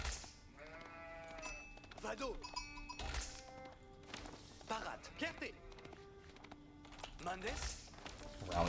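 Sheep in Age of Empires 4 bleat several times in quick, distinct calls amid game interface clicks and chimes, with someone talking over the top throughout.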